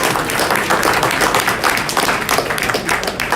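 A room of auction attendees claps after a lot is sold, dense steady applause filling the space evenly for several seconds without a break.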